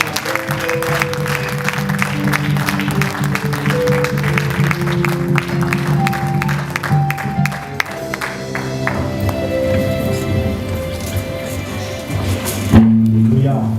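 A church congregation claps and acclaims the Lord, with steady applause under voices and sung, musical tones that carry on throughout.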